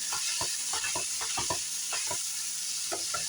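Minced garlic stirred into softened onions sizzling in a pan: a steady close frying hiss with repeated scraping spoon strokes over it.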